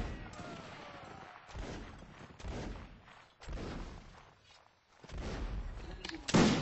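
A Waterloo battle in the Mount and Musket game crackles with repeated musket volleys, scattered shots and bursts from several directions, some near and loud, others farther off.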